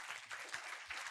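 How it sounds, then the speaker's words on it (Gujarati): A class of school students applauds to welcome a girl student during a classroom discussion. The clapping is soft, faint and steady, sounding as if it comes from across the room, with no voices over it. "પહેલા તો બેનને તાળીથી વધાવી લઈએ"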